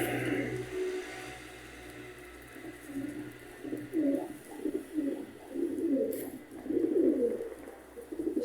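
Pet Baghdad pigeons kept in a cage coo in repeated soft, throaty rolling phrases, near and moderately loud, several calls overlapping over a low background hum.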